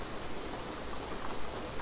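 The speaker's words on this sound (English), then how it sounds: "Oh, it's because of the rain sounds." Steady rain pours in a dense, even hiss with no breaks, soft and continuous throughout, the kind of rain noise played to help fall asleep.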